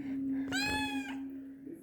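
A domestic cat gives a single clear meow, close and moderately loud, over a steady low hum in an indoor room.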